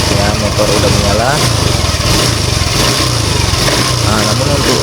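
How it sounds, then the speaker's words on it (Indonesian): A Honda Vario 125/150 scooter with a stalling and hard-starting fault runs at a loud, close, slightly uneven idle, its rapid pulsing drone continuous with small fluctuations, while someone talks over it. "Ya, motor udah menyala."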